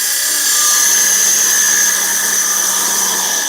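A woodturning tool makes a steady cut across dense robinia, also called false acacia, on a lathe, producing a loud, continuous high hiss with a constant whine and no pauses.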